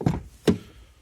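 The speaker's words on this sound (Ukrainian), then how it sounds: "Отже, дивіться, відкриваємо двері." The rear door of a Renault Clio is opened, giving two short close thumps about half a second apart, the first a little softer than the second.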